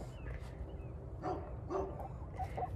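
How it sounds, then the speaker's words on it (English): A dog barks and yips faintly a few times in a backyard with free-range chickens, short spaced calls over a steady low outdoor hum. "My dog is competing with me. She wants to train them to come to her bark."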